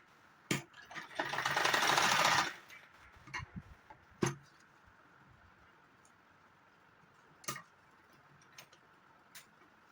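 A sewing machine stitches buckram onto a saree belt. One loud, close rattling run of about two seconds is followed by scattered clicks and handling knocks.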